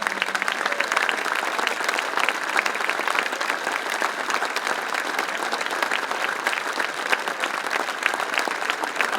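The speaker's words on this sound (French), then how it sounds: "j'aimerais que vous applaudissiez le Prince, sa famille." A crowd at a historic Grimaldi sites gathering in Monaco applauds Prince Albert II and his family, dense, sustained clapping from many hands that stays loud and even throughout.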